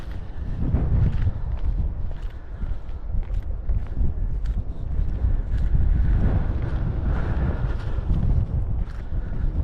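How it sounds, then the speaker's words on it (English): Gusty wind buffeting the microphone during a drone flight, low rumbling bursts, steady and fairly loud throughout, no speech. "It really is quite windy."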